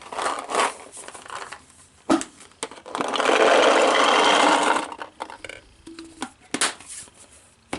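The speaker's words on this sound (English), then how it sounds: "when the agitator is running, it'll help feed the paint in." A Q-loader paintball pod loader's agitator whirs in a short buzzing burst of about two seconds, close by, amid clicks and handling knocks of the loader before and after.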